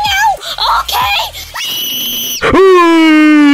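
Cartoon characters scream in a loud, high, sustained burst of cries, rising and wavering, with one shrill held scream ending the stretch.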